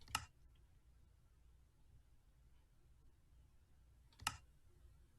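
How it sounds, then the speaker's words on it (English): Two isolated sharp clicks from a Minecraft settings menu sound several seconds apart. They are faint and crisp against near silence. "I don't know how to turn off the clicking sound when you're adjusting this"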